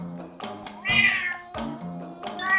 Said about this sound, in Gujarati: તેઓએ રસ્તામાં એક બિલાડી જોઈ.